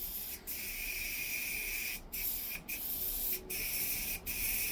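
Airbrush spraying paint over a Sith Blood Trooper figure, a steady close hiss that runs nearly continuously with four or five brief cuts where the trigger is released.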